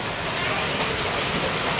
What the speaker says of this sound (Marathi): जबरदस्त पाऊस